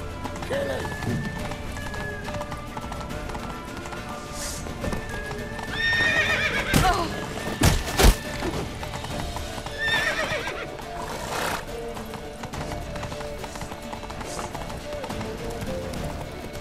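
Horse hooves clip-clop amid a steady wash of background noise from The Witcher 3: Wild Hunt, with a couple of whinnies rising over the mix.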